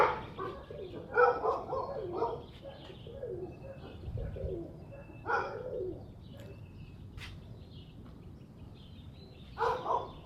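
A flock of pigeons kits in tight circles overhead, older birds mixed in with young ones. Soft cooing and scattered chirps come and go at moderate distance, with a brief low rumble in the middle and no speech.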